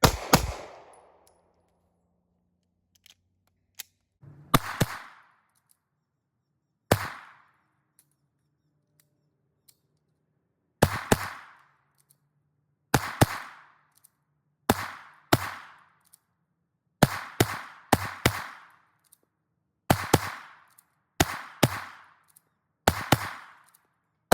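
Glock pistol fitted with a G-Flex trigger firing at a range, sharp reports arriving mostly in quick pairs with pauses of silence between, about a dozen bursts spread unevenly, loud and close with a faint echo after each.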